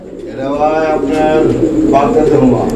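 Pigeons coo steadily close by, soft throaty murmurs overlapping, with people talking over them.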